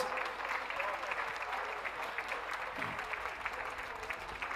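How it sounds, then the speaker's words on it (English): Spectators at a Blackpool dog show group judging applaud the lap of honour, a steady wash of clapping from a crowd heard at a distance, moderately faint and continuous. "Big round of applause."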